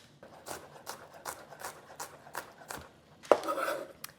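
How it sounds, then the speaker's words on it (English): A knife chops through a very large onion on a board, with about a dozen steady, evenly spaced cuts close by, then a louder clatter near the end. "I am gonna go ahead and chop up this onion"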